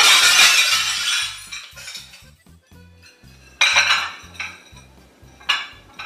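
Dishes crash loudly, with cutlery, plates and glass clattering and shattering in several bursts and a rhythmic thumping underneath, loud and close, and no one talking.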